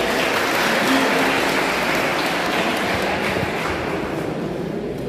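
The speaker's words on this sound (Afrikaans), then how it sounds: "Kom ons gee vir lekker hande klap julle." An audience at a community cup jersey handover ceremony claps steadily, a dense even patter of many hands lasting several seconds at moderate distance.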